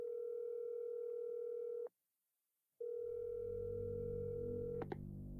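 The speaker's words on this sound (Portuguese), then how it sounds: "Ó, telefone, telefone." A telephone dial tone plays in the Resident Evil 7 video game, a steady hum that cuts to silence for about a second, then resumes with a low rumble beneath and brief clicks near the end.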